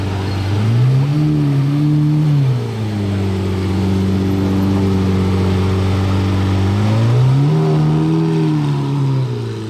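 A Ferrari 812 Superfast V12 revving in a sustained, loud blip that rises, holds steady and climbs again toward the end, with a smooth layered harmonic engine tone and no voices over it.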